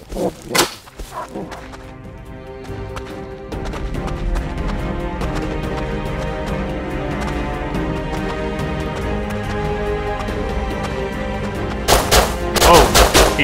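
Gunfire in the survival video game Rust comes as sharp cracks at the start and end around a sustained, busy stretch of game sound in between, loud and close.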